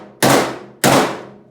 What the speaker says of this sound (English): So I just took this hammer and